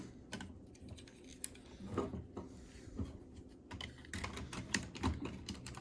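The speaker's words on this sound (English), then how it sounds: "fold his wings down, and fold these wings up." Plastic parts of an MP-24 Star Saber transforming toy being folded and tabbed into place, making quiet, irregular clicks and small ratcheting snaps close up, with no talking.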